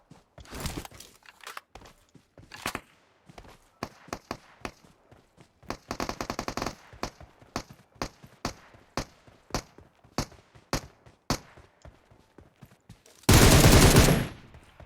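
Video game gunfire crackles in scattered single shots and short bursts, with a dense rapid volley in the middle and a loud, sustained blast of noise near the end; no talk.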